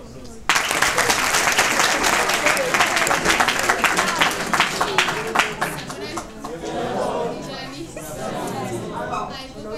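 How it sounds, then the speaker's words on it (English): A seated audience breaks into applause for a speaker, loud dense clapping that fades into murmuring chatter and talk toward the end. "Please give her a round of applause."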